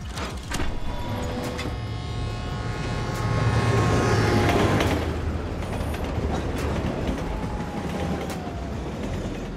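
A train rolling along the tracks in GTA Online, a rumbling, screeching mechanical roar that swells to a loud peak midway and then eases off, with metallic squeals over a low drone.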